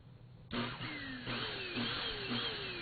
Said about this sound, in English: Revving my engine for the race.